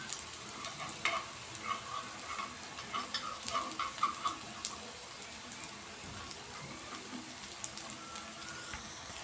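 Aloo kofta frying in oil, a soft continuous sizzle with scattered small pops and light scraping, fairly quiet and steady with no talking.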